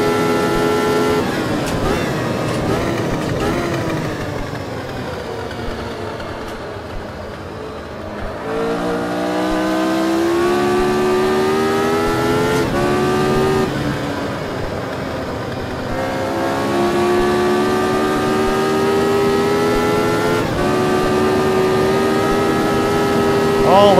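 A car engine pulls steadily on a race or road drive, its pitch climbing and dropping through several throttle changes, loud and close throughout, with occasional voice underneath.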